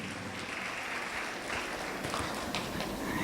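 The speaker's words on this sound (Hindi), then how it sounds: "एक बार जोरदार ताली हो जाए इनके लिए" Audience applause filling a town hall during a Women's Day award ceremony, a steady wash of many hands clapping at moderate distance, continuous and even without voices rising above it.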